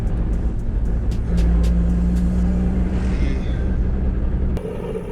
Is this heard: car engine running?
yes